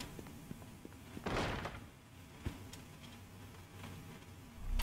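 A door slams with a single dull thud inside the video game Long Gone Days, heard against a quiet, faintly humming background, followed by a few soft knocks and a low rumble at the end.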